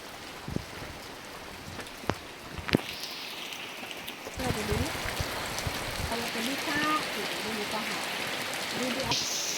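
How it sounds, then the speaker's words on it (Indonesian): Heavy rain pours steadily over hills and rice fields, a dense broadband hiss throughout with scattered sharper drip impacts, while a voice speaks over the downpour in the later part. "Sekarang turun hujan tuh sangat deras sekali ya, sampai berkabut."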